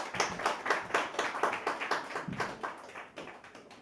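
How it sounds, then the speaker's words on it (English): A steady patter of hand claps, fairly sparse and rhythmic, like a small group applauding at a chess event, tapering off toward the end. "Give them a warm round of applause."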